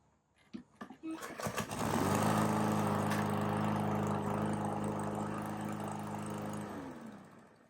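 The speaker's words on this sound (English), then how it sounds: "I will give a try to start a lawnmower now." Small lawn mower engine pulled a few times, catching, running steadily for several seconds with a droning hum, then dying out as the handle is released, heard close up.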